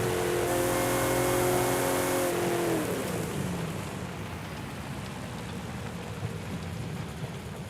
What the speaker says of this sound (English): The whine of the supercharger is like fantastic